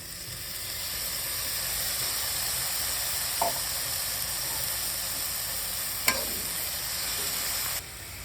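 Marinated mushrooms fry with onions in a pan for a restaurant-style mushroom masala, a steady sizzling hiss throughout with two brief utensil clacks from stirring, close and continuous without talking.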